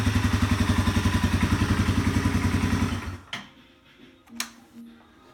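A 2015 Yamaha TW200 single-cylinder motorcycle idles after a cold start with a rapid, even, loud thumping beat, then cuts off abruptly, leaving a few clicks and faint clatters.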